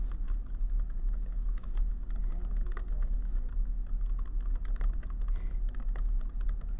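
Someone types on a computer keyboard with a fast run of close, crisp key clicks over a low background hum, with no voices.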